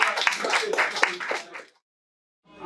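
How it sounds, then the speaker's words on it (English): A small audience claps for a performer at a live music session, about a second and a half of close, uneven clapping that cuts off into silence before a faint new sound begins. "Give him a round of applause"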